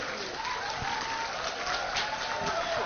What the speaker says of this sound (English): what about a round of applause for one of the stars of tonight?